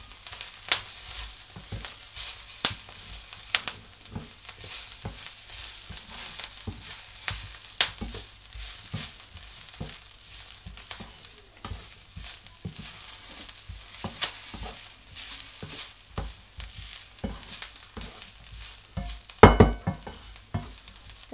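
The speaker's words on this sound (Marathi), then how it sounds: "अर्धी कवड सुका खोबऱ्याची मी किसून घेतलेली ती टाकते, ती चांगली भाजून घेऊया" Grated dry coconut roasts with onion in a pan for Malvani chicken sagoti, giving a soft, steady sizzle broken by frequent scraping stirs from a spatula and one louder clatter near the end. No one speaks.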